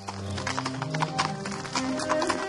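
Hooves of a horse pulling a period horse-drawn carriage clip-clop in a quick, uneven rhythm, close and clear, with a faint rumble of wheels beneath.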